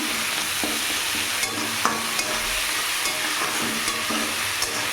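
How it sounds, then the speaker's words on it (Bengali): Chopped onions with salt frying in a pan, a steady soft sizzle with light stirring scrapes and occasional clicks of the utensil, close by and alone. "এবার পেঁয়াজটাকে একটু হালকা লাল লাল করে ভেজে নিই।"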